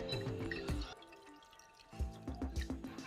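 Water poured from a cup into a bowl of batter for boondi laddu, with trickling and dripping splashes in two bursts separated by a brief quiet gap, close by and soft.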